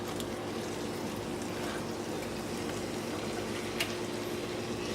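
Chicken thighs sizzle face down in a crowded pan with their juices and sauce, a steady dense frying hiss that runs continuously and fairly close, with no talking over it.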